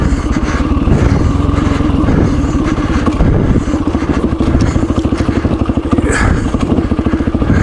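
An old Yamaha WR dirt bike engine revs and chugs over a rough, torn-up trail, loud and close, with clattering thumps from the bumpy ground and no talk.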